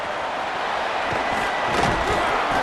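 Stadium crowd cheering after a punt return in a college football video game featuring Coastal Carolina, a dense, continuous roar of many voices at steady volume.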